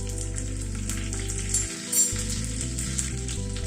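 Two dry red chillies, half a spoon of cumin and half a spoon of fenugreek sizzle in hot oil over a lowered gas flame, a steady close frying hiss with a low hum, and no voices.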